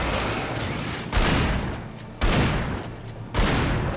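Gunfire in the video game Alan Wake: three loud, sharp shots spaced about a second apart, each followed by a long, noisy echoing decay.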